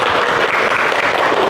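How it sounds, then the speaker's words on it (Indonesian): A burst of dense clapping from a room full of people, loud and steady throughout with no pauses. "Tepuk tangan."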